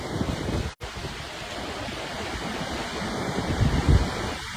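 Small ocean waves wash onto a beach on a calm weekday, giving a steady broadband surf roar mixed with wind buffeting the microphone, swelling slightly louder toward the end.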